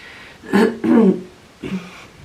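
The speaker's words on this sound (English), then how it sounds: "keep clearing my throat" Someone clears their throat twice in quick, rough bursts, followed by a softer third rasp, close to the microphone.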